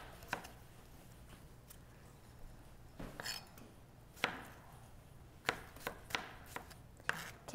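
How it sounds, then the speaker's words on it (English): A knife slices tender zucchini into little strips on a cutting board, with quiet, irregular thuds and taps spaced apart in a fairly hushed kitchen. "I cut them not in circles, into little strips like that"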